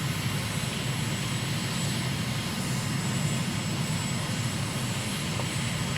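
Steady aircraft engine drone from a plane in Microsoft Flight Simulator, flying over the Berry Islands in the Bahamas; a constant, even hum with no speech over it.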